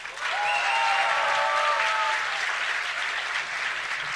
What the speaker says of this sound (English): If you would like to see a PVZ final, give a cheer for We Made Fox's Moon.